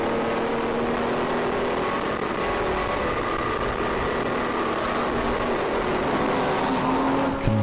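An endurance race car in a ChampCar Endurance Series event in New England drones steadily and close by at constant loudness as it lines up for a braking zone, the engine tone holding level with a slight pitch shift near the end.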